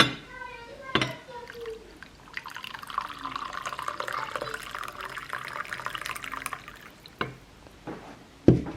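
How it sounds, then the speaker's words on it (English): Freshly boiled water is poured onto blended ginger for a homemade immune-boosting drink, making a steady splashing stream for several seconds. A voice speaks briefly at the start, and there are a few knocks near the end. "Then I'm going to be adding boiled water to it."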